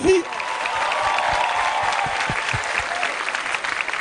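A live concert audience of Lebanese and Arabic folk music applauds steadily for several seconds, a dense, even wash of clapping from a large crowd with no voices over it.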